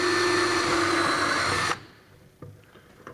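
A power drill whines loudly for under two seconds drilling through a plastic water filter bucket, then cuts off, followed by a few faint knocks and rattles.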